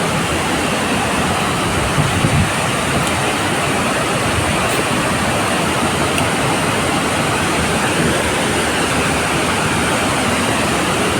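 Devkund waterfall in Similipal National Park, Mayurbhanj, Odisha, roars as a loud, steady broadband rush of falling water, continuous and close for the whole stretch with no voices.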